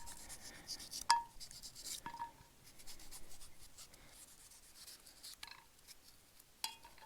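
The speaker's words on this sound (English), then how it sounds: "First thing we're gonna do is cut up some potatoes." A knife slicing potatoes on a cutting board while cooking lake trout, heard as a few faint, scattered taps and scrapes against a quiet background.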